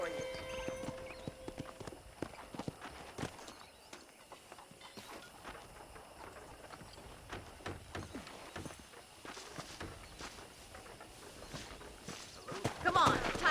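Horse hooves clip-clop steadily at walking pace in Red Dead Online, mixed with ambient game sounds and occasional louder bursts near the end.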